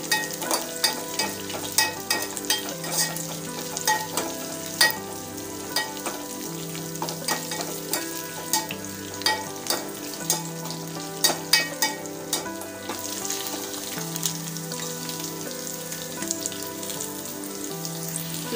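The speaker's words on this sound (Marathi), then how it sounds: "त्यानंतर मिरचीचे तुकडे, कढीपत्ता, हे सर्व घालून मिश्रण हलवून घेऊया।" Chilli pieces, curry leaves and garlic fry in hot oil in a pan for kadhi, a continuous sizzle broken by frequent rhythmic scrapes and clinks of a spoon stirring against the pan, close and clear.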